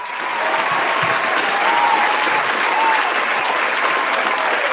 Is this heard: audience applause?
yes